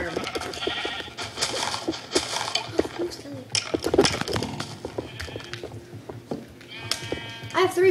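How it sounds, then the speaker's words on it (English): Sheep bleating in Minecraft on Xbox near a farm, short bleats mixed with clicks and splashy game effects, while players talk over the top. "No sheep, don't touch the farm."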